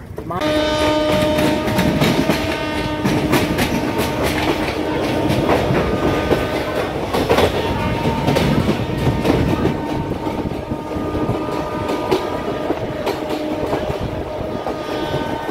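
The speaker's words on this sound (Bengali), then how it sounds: "তো ট্রেনটা কিন্তু এখন হচ্ছে আপনার দমদম হয়ে, মানে পাতিপুকুর দমদম হয়ে দক্ষিণেশ্বর" The Kolkata to Digha special train 03161 runs along the tracks via Dum Dum toward Dakshineswar, a loud steady rumble with rhythmic clickety-clack and sustained horn-like tones throughout, heard from aboard.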